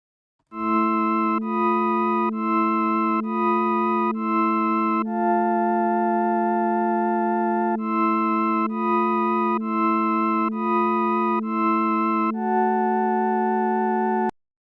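Synthesized string parts with slow, wide vibrato in a Super Mario World style port of Aquarium from Carnival of the Animals play alone. Steady sustained chords shift every second or so through a continuous fourteen-second phrase.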